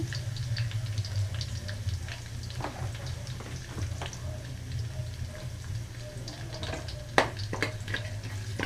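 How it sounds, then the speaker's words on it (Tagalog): Garlic and onion sauté in oil in a pan reused from frying potatoes, a soft, steady sizzle with scattered clicks of stirring and one sharper knock near the end. "isautay na natin yung garlic. Then, yung onion."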